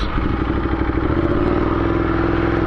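A Ducati Diavel motorcycle with shorter gearing putters around a parking lot, its engine a loud, close, steady rumble with fine clattering pulses and a slight rise in pitch.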